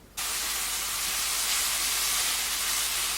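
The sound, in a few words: onions frying in a pan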